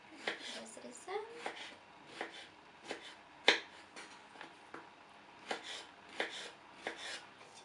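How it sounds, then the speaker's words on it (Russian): A kitchen knife cuts strawberries into small cubes for a yogurt jelly dessert with berries, giving about a dozen soft, irregular chopping taps against the board, close and fairly quiet. "Разрезаем."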